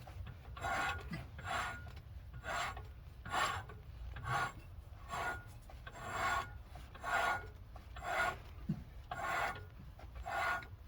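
Lapping compound grinding under pressure, heard as a steady rasping rub in about a dozen even back-and-forth strokes, close and moderately loud with no talking.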